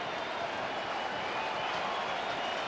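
A stadium crowd at a 2000 AFL match between Carlton and Collingwood applauds steadily, a dense, even wash of clapping heard from a distance throughout.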